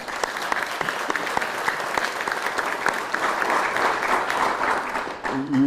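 Sustained applause from an audience at an Arkansas State athletics press event, honoring student athletes, coaches and academic staff; even, moderately loud clapping that carries on until a voice begins speaking right at the end.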